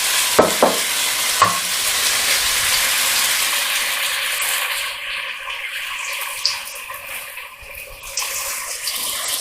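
Beef with onion and garlic fries in a floured, oiled pan, giving a loud continuous sizzle with a few sharp clinks early on, then a softer, fading hiss; no voices.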